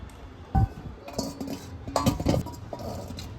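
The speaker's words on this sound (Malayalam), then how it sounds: "ഇനി ഇത് കുക്കറിൽ നിന്നും മാറ്റാം." Clinks and knocks of a metal pot as cooked jackfruit comes out of a pressure cooker in a home kitchen, a sharp clank near the start followed by a cluster of lighter rattling taps, close and fairly loud.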